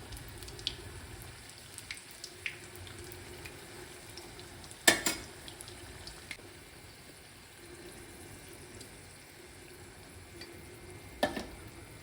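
Bajji fritters in hot oil give a low, steady sizzle throughout, broken by a couple of sharp louder crackles and spatters, with no talking.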